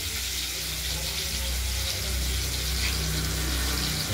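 New potatoes fry in spiced oil with tempering spices, giving a soft, steady sizzle with a low hum beneath it, faint and unbroken throughout.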